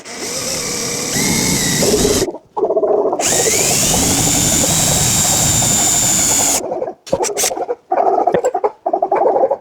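A power drill bores a hole into a storage cabin wall, its loud steady whine running for several seconds, then cutting off into shorter bursts.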